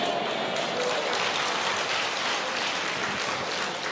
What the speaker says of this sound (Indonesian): Nggak usah tepuk tangan